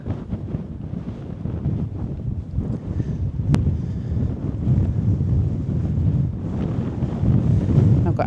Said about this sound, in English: I've got out into the open bit now, and it's starting to get a bit windier.